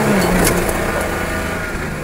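GM 110 V6 Vortec-powered vehicle revving hard while spinning all four wheels, a loud, steady roar that holds close and unbroken for the whole stretch.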